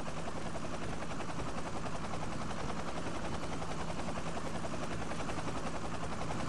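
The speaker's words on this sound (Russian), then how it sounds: "Вертолет. Он прям над нами сейчас пролетает." Helicopter flying low overhead in the Rust Mobile survival game, a dense, steady rotor roar filling the whole clip at constant loudness with no talk over it.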